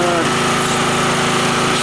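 An angle grinder with a brushed motor running off a GENERGY 3 kW petrol generator, giving a steady, loud high-pitched whine over the generator's engine drone, unbroken for the whole stretch.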